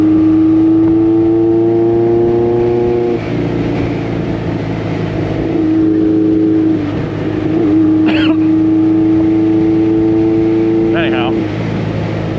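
A 1986 Honda CB1000 custom motorcycle rides around town, its steady engine drone close and loud throughout, dipping briefly around a gear change before settling back, with wind buffeting and a voice talking over it.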